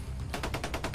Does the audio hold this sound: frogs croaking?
no